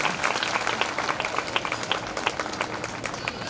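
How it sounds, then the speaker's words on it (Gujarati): Loud, dense applause from an audience at a village Bhagavat Katha religious gathering, a steady wash of many hands clapping throughout with no break. "જોરદાર તાળીઓથી વધાવીએ આપણે."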